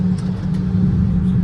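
A truck hauling manure on a farm rumbles steadily up close, a continuous low engine drone with no talk over it.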